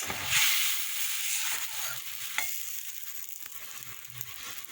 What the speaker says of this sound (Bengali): দেখো ঝোলটা ফুটে গেছে